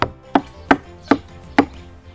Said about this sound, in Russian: И нарезаем их на мелкие кусочки.